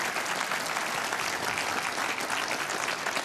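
Snooker crowd at the 2017 Scottish Open quarter-final applauds a Neil Robertson century break, sustained loud clapping from a packed arena that holds evenly throughout.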